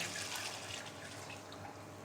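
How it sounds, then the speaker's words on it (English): Plain tap water runs steadily into a saucepan holding a pair of pig's trotters. It makes a continuous, soft, close splashing stream that stays even for about two seconds. "Fill the saucepan with just plain water."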